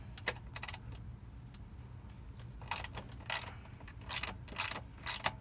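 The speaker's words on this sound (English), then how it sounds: "I'm going to hold the bolt and turn the nut" A wrench works a 12 mm nut on a Honda CB300R motorcycle's exhaust hanger bolt, giving several short, close metallic ratcheting bursts separated by brief pauses.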